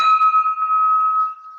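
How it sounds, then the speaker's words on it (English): A single bell struck to open a Rotary Club meeting held over Zoom, ringing with a bright, clear tone that sustains and slowly fades over under two seconds, alone with no talk. "I'll go ahead and ring the bell"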